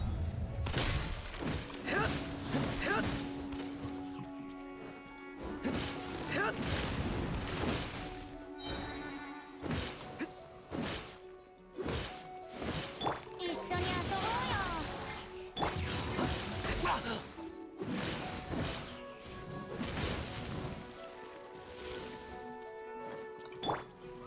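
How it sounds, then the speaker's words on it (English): Fast combat effects from Diluc's fire-element attacks in Genshin Impact, a steady barrage of loud slashing hits, crashes and bursts of flame repeating throughout, layered over game music with sustained tones. "Diluc is gonna be using Q first so that his auto becomes fire. And he's gonna keep on attacking the enemy with fire element"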